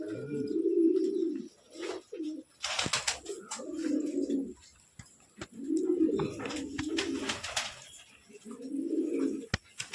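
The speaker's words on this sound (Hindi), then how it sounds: "ये बहुत भूखी नस्ल के कबूतर है" Repeated low, throaty pigeon coos roll in several long bursts, close by, with scattered wing flutters and faint chirps between them.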